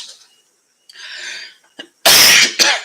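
A few sharp bursts, one soft and then two loud explosive ones close to the mic, like a cough or sneeze with breathy air in between.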